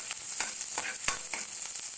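Garlic and onion sauté in a hot pan for sweet and sour chicken, a bright continuous sizzle with soft rhythmic stirring strokes and a spatula tap near the middle.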